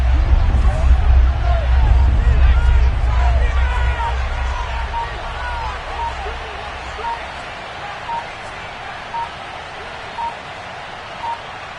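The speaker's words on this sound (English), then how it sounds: "the crowd getting into it as we come up on a big 3rd down" A football stadium crowd rumbles ahead of a big third down, loud at first and then easing into a busy murmur with scattered whistles and shouts, while a broadcaster talks over it.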